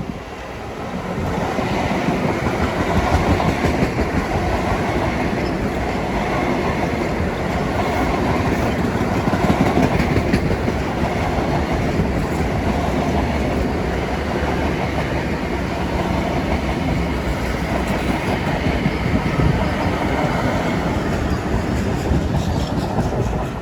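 A Long Island Rail Road commuter train rolls past on track 4 at Kew Gardens during rush hour, a loud, sustained roar of wheels and cars with a faint clickety-clack over the rails, close and steady throughout.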